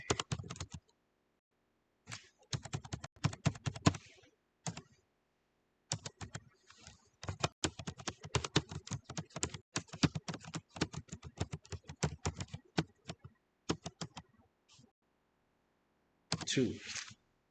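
Rapid clicking keystrokes on a computer keyboard come in quick bursts with short pauses between them, close and fairly quiet, with no voices over them.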